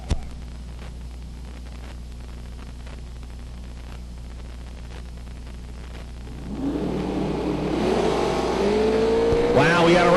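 Drag race cars launching down the strip at the Yellow Bullet Nationals, a faint low drone giving way to a loud rising roar of engines accelerating away in the final seconds.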